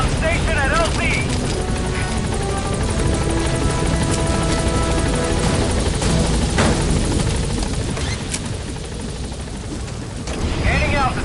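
The Pequod helicopter in Metal Gear Solid V thumps and whirs steadily nearby, its rotor drone loud throughout, while radio voices talk over it.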